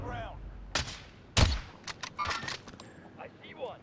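Sporadic gunshots in an online shooter match, one sharp loud crack followed by scattered lighter pops, mixed with players talking quietly over voice chat.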